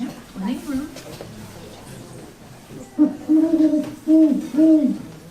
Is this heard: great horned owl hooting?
yes